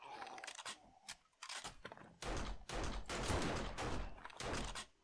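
Sharp hunting-rifle shots and clattering reload noises in 7 Days to Die come in a quick irregular sequence, each crack close and loud, with brief quiet gaps between them.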